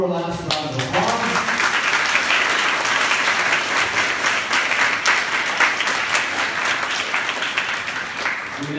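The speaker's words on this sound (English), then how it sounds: "Let's give them all one more last round of applause." A school crowd gives a final round of applause for the 2015-2016 student association candidates, loud sustained clapping with cheers and voices mixed in, starting after a brief word and carrying on steadily.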